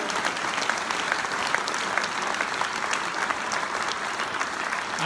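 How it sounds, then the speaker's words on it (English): A room of entrepreneurs at a London gathering applauds four changemakers, dense sustained clapping from many hands at an even, fairly loud level throughout with no speech over it. "Can we please give our 4 changemakers a massive round of applause for their sharing?"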